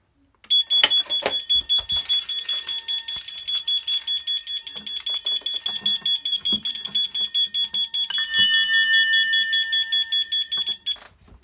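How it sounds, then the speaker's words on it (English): A smoke alarm sounds during a C-Tec CFP fire alarm system test, a loud, steady high-pitched electronic tone pulsing rapidly for about ten seconds, with a few clicks at the start and a shift in pitch near the end. "Smokey has recognized and responded to your smoke alarm."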